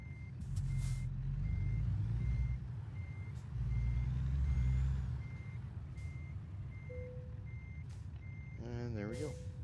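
A truck backing a trailer into place in American Truck Simulator, with a steady rumbling engine, evenly spaced reversing beeps and an air brake hiss near the end, and someone talking over it.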